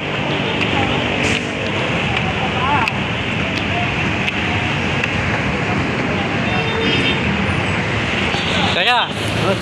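Steady road traffic roars near the Samson Road footbridge in Monumento, Caloocan City, a dense continuous wash of engines with a brief louder vehicle passing near the end and voices talking faintly over it.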